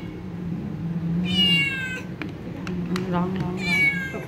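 A frightened cat at a vet visit for a leukemia blood test meows in several loud, strained cries that rise and fall, with people talking and murmuring underneath.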